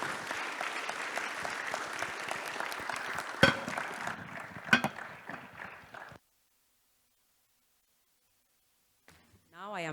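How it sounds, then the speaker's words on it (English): Audience applause for the panelists at a Sankalp Africa 2025 plenary session, a steady, moderately loud patter of clapping for about six seconds with a couple of sharp louder claps, then near silence before a brief burst returns. "Let's give a big round of applause to all our panelists."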